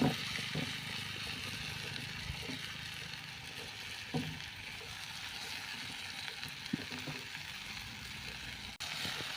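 Grated raw mango sautéing in a little ghee in a kadai over a village cooking fire: a steady, close sizzle runs throughout, broken by occasional soft clatters of stirring.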